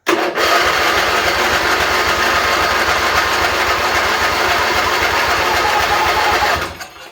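The Briggs and Stratton twin-cylinder engine on a Craftsman riding mower cranks loudly and steadily for several seconds with a rapid rhythmic starter churn, never firing, then winds down.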